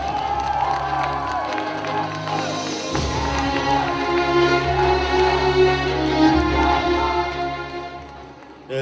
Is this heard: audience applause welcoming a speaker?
yes